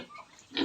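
A pig on a piggery farm gives a short grunt close by, a brief low snort rising at the end over quiet barn background.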